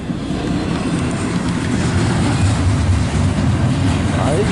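A CSX intermodal freight train, westbound on a single track with locomotive 737, rumbles past with a steady, loud, continuous low roar and rolling wheel noise throughout, with no clear talk over it.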